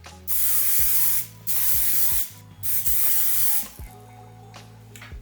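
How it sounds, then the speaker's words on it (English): Four long bursts of aerosol hairspray hiss loudly in succession, separated by short pauses, with a faint electrical hum underneath. "I'll still spray on my volume spray like as I go"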